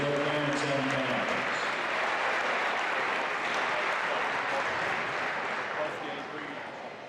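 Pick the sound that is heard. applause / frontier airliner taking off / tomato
applause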